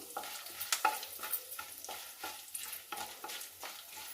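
Fenugreek and spinach leaves fry in a pan with curry leaves and dried red chillies, stirred repeatedly. Close, rhythmic scraping and stirring sounds over a light sizzle, with no talk.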